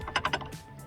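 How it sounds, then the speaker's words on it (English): A Torx T6 driver snugs up a bolt on a Bullet Speed back top for a 2018 Polaris Slingshot, giving three quick, close clicks followed by a faint ratcheting rustle. "I am using the T6 to just snug this up a little"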